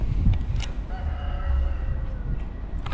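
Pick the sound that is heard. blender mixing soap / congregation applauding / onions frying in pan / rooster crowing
rooster crowing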